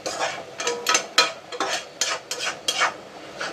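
Gongura leaves fry in oil while being stirred for Andhra-style gongura thokku. Repeated scraping strokes of a spatula sound close, about six in three seconds, over a faint sizzle.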